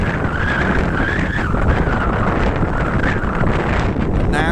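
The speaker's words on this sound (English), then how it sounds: "Here we are at the really windy spot, which is still really windy." During a spring flood watch, strong wind buffets a phone microphone at an exposed spot, a loud continuous roaring rumble without pause.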